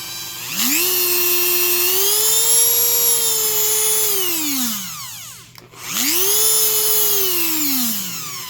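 Dremel 3000 rotary tool running smoothly, a loud close whine that ramps up in pitch, holds steady, winds down, then spins up again for a second run, alone with no talking.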